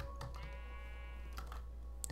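A sheep bleats in Minecraft during cave exploration with the Divine RPG mod, one drawn-out wavering bleat heard alone over a low steady hum, followed by a faint click.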